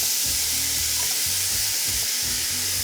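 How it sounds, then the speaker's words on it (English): Diced onion and tomato sizzle steadily in a hot pan, with bursts of scraping and stirring against the pan every half second or so, close and without talk. "I will add the diced onion and the diced tomato. And while I add it to the pan, I'm gonna really stir the pan"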